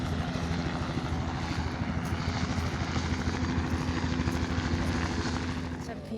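Helicopter in flight during a ride to the Dwijing Festival, a steady loud rotor and engine drone with low thumping throughout, heard from inside the cabin with faint voices mixed in.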